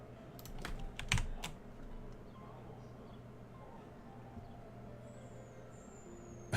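Fast typing on a Mac computer keyboard, a quick burst of clustered key clicks early on, then quieter sparse taps over a low steady background hum.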